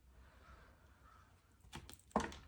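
Crows cawing outdoors, a few harsh calls rising near the end over a quiet, faint background.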